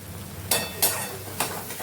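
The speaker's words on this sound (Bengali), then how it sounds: "দেখুন টমেটোটা প্রায় অলমোস্ট কষা হয়ে গেছে এবং কালারটাও চেঞ্জ হয়ে গেছে" Tomato and spices sautéing in a pan, a soft steady sizzle with a few sharp scraping stirs of a utensil against the metal, close and alone without talk.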